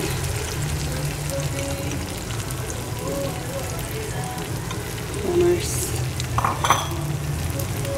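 Garlic, onion, tomato and long chili sizzling as they are sautéed in a pan, a steady close frying crackle with occasional utensil clinks and scrapes, faint talk underneath.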